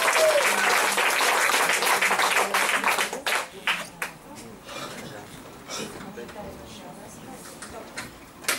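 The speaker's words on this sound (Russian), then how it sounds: "Ваши аплодисменты" A graduation audience claps loudly for a graduate, then the applause thins and fades into scattered claps and a few voices.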